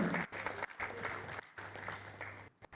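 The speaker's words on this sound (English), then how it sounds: "Applaud the stage for Mubarak, please." A conference panel audience applauds as a speaker is welcomed onto the stage, with moderate clapping in bursts broken by short gaps and a faint hum underneath.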